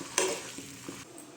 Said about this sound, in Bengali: দিয়ে দেবো কাঁচা সর্ষের তেল, দিয়ে এবারে নাড়াচাড়া করতে হবে